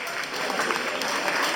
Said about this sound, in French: Je vous demande de l'applaudir encore une fois,